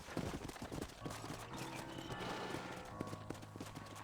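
Horse hooves clip-clop at a steady walking rhythm in the Western video game Red Dead Redemption on PS5, close and fairly loud with a faint murmur of ambient game sound underneath.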